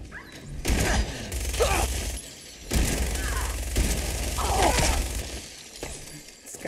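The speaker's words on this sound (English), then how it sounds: "Throwing grenades and stuff" Repeated grenade blasts in Fallout 4 during a night fight in a museum, several loud booming thuds with shattering debris spread over a few seconds, one after another under game noise.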